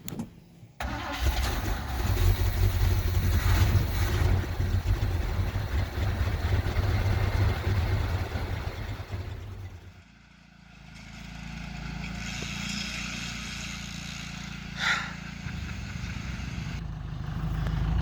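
An old truck that sat for years, fitted with a new battery and fresh fuel, cranks and roars to life loudly, then settles into a lower, steady idle with a brief rev near the end.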